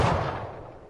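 A single revolver shot from the Fortnite video game, a loud close crack right at the start that fades into a short tail of echo within a second.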